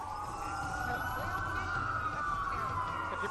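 Police sirens wail in the Watch Dogs video game, a rising and falling tone sitting over a low street rumble, moderately distant and fairly quiet with no speech over it.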